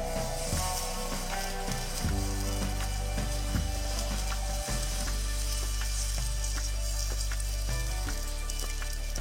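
Potato pancakes with bacon sizzle in pans on an outdoor kamado grill, a steady close frying hiss broken by occasional scraping and clinking of a utensil, with no talking.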